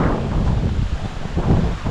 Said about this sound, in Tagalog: nasunod sa amin yung unos, yung malakas na hangin.